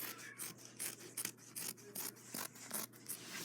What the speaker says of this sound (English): So just cut it like this.